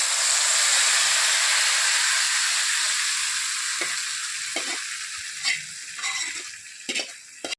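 Gongura leaves hiss and sizzle in a hot pan of tempering for a gongura tomato curry, a loud steady fry that eases off as stirring brings several scraping clatters of the spoon near the end.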